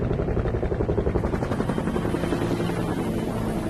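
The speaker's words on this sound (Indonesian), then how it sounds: "tiba-tiba 2 helikopter FBI datang untuk menangkap Swagger" Two FBI helicopters arrive in a film scene with a loud, steady rotor thumping and engine whine that fills the scene continuously without any talk.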